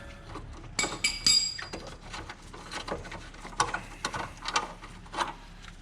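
Socket ratchet loosening and removing 12mm bolts on an Acura TSX, giving scattered metallic clicks and clinks in short bursts, fairly close and moderate in level, with no talking.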